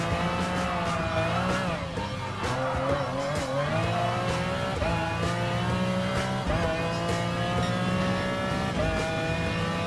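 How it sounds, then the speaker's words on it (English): Racing engine of a 1995 McLaren F1 GTR Le Mans race car in Gran Turismo Sport, a steady loud drone with rising and falling revs, gear shifts and brief tire squeal throughout, with no talking. "this is definitely one of the most fastest race car in the Group 3 category"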